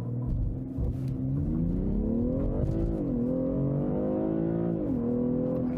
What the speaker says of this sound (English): then we'll accelerate it out just a little bit for you, because that's good to see here with the all-wheel drive